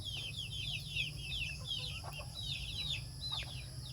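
Busy poultry yard with clucking chickens and bird chirps over a steady low rumble, fairly constant throughout.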